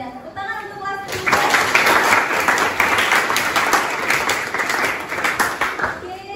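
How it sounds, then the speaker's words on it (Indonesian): A school class, 10B, bursts into sustained clapping in the classroom after a short spoken lead-in, the dense applause holding for about five seconds before tapering off. "Tepuk tangan untuk kelas 10B."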